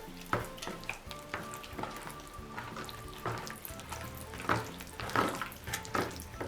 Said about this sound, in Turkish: Ve bu harçlarımın hepsini karıştırıyorum.